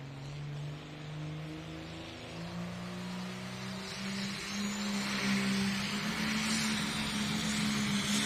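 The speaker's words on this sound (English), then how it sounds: "Puller number one here tonight, Brent Schubert and the Plantin' Tractor." A John Deere pulling tractor makes its run at a night tractor pull, engine roaring and climbing in pitch as it strains down the track, heard from a distance and growing louder.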